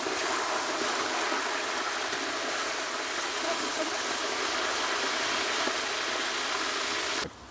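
Meat sears in about half a litre of very hot sunflower oil for plov, giving a steady, close, dense sizzle and bubbling that runs unbroken and then cuts off abruptly at the end.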